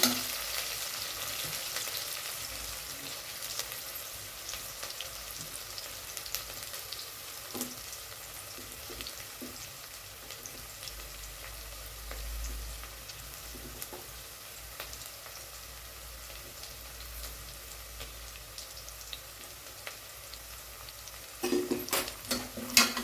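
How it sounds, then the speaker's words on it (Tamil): Steady crackling sizzle of curry leaves frying in hot oil in a pan for mutton kudal gravy, continuous throughout with a few louder pops and stirring clinks near the end. "இது கூடவே கொஞ்சம் கருவேப்பிலை போட்டுக்கிறேன். நல்லா ஃப்ரை ஆகுதுங்க."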